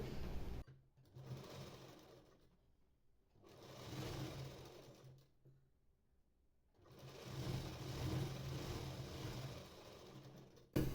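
Electric sewing machine stitching a blouse sleeve, running in three long bursts of steady whirring with short quiet pauses between them, close and fairly loud, with no voices.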